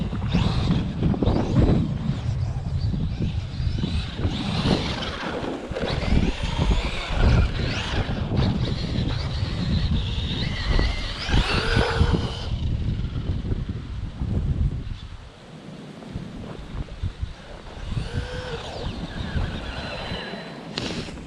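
A Traxxas Maxx RC truck with a lowered center of gravity and softer spring preload drives outdoors and makes a small jump. Its motor whine comes in loud, fluctuating bursts through heavy wind buffeting on the microphone, with a brief quieter stretch near the end.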